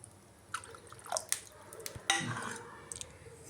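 Water is poured into cooked dal in a pot, making soft dripping and sloshing splashes in short uneven bursts, close and quiet.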